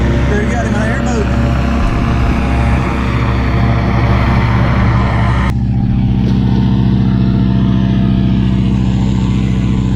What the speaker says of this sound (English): There you got him in an airboat.